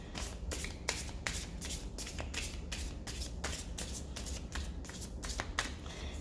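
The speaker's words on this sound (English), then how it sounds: "I think it's shuffled enough." A deck of playing cards is shuffled repeatedly, a rapid series of crisp riffling bursts in a steady rhythm, close and fairly loud with no talking.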